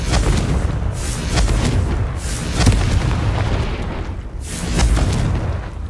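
Repeated booming magical blasts from the Confringo fire spell in Hogwarts Legacy, three broad explosive bursts rolling over a continuous rumbling game soundscape, loud and close with no talk.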